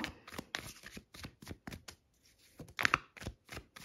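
Tarot cards are shuffled in quick, crisp riffling bursts, close and fairly soft, with a short pause midway before more brisk flicks.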